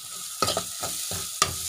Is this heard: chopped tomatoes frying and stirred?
yes